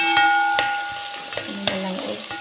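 Molokhia stirred in a frying pan with chicken and garlic, a close, sizzling fry with short scraping strokes of a utensil against the pan.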